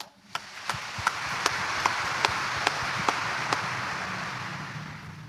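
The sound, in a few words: congregation clapping during Mass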